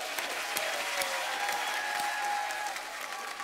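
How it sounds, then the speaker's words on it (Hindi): A studio audience at a Hindi comedy talk show applauds the guests, a dense, even roar of many clapping hands with a few sharper claps popping out, sustained throughout. "जोरदार तालियां हो जाए"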